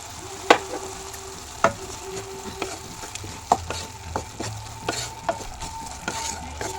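A spoon stirs chili powder and salt into Mysore papu curry in a pan. Scraping strokes land at irregular intervals over a faint, steady cooking hiss.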